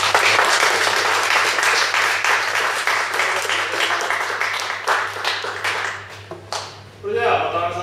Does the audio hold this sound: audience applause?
yes